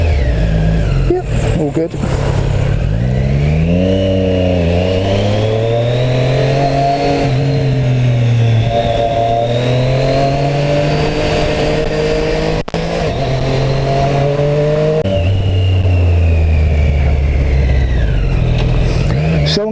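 Engine of a Triumph Street Triple RS 765 motorcycle heard while riding and filtering through traffic, rising and falling through several revs and gear changes, loud and close, with a rider speaking briefly over it.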